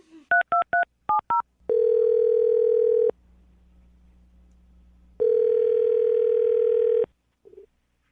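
A landline phone being dialed: a quick burst of DTMF keypad tones, then two long steady ringback or dial tones separated by a faint hum, ending with a brief blip, close and clear with no talking.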